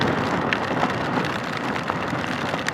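Heavy rain drums down continuously at Valdez, Alaska, a thick close wash of patter with a few sharper drops standing out.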